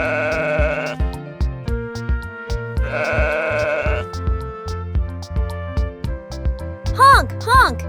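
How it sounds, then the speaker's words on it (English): A sheep in a meadow gives two long, wavering bleats over a bouncy children's music backing, with short higher cries near the end. "Fluffy sheep are like walking clouds, and their sweet bleats create a peaceful melody as they graze in the meadow."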